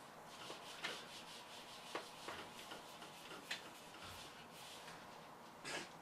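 Writing being rubbed off a board, heard as soft repeated scrubbing strokes with a few light knocks, fairly faint and close, with no talking.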